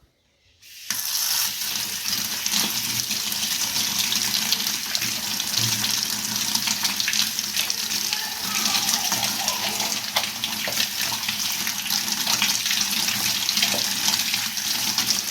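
Water running over an unsealed handmade clay and cement vase, a loud steady tap-like splash that starts abruptly after a brief silence and then pours on without a break.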